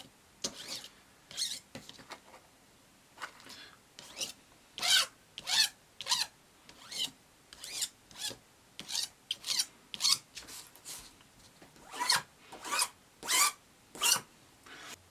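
Fingertips rub back and forth across a Creality CR-10 S Pro 3D printer bed surface, producing a series of close, dry, raspy scraping strokes in an uneven rhythm, growing louder partway through.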